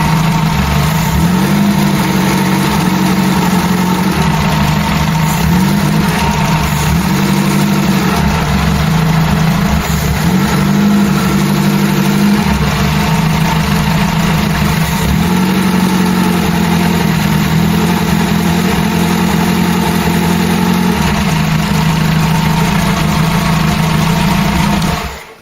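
A Ford Cortina GXL engine idles steadily inside a workshop, its exhaust pipe droning loud and close with an even, low rumbling pulse that carries on unbroken for the whole stretch.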